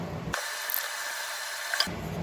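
A hammer gently taps a fuzz pedal potentiometer shaft back into place on a makeshift anvil, a few light metallic clicks over a mechanical whir, close and isolated.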